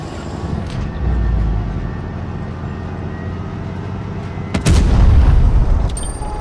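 A tank cannon shot in an online tank battle game featuring a Chieftain Mk6 and Carro 45t, a sudden loud boom about two-thirds through, preceded by a steady engine rumble and followed by a heavy low roar.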